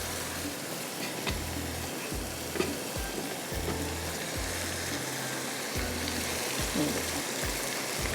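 Soya chunks and potatoes frying in a pan over a high flame, with a steady loud sizzle, low rhythmic stirring thumps, and occasional faint voice.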